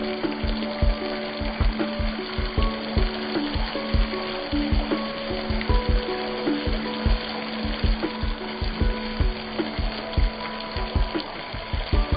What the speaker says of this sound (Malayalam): നന്നായിട്ട് ഫ്രൈ ചെയ്യണം.